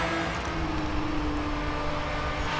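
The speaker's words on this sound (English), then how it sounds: "hear the sound of all these motors" Steady, loud engine roar of racing cars in the video game Grid Autosport running continuously, a dense drone with a slight rise in pitch and no voices.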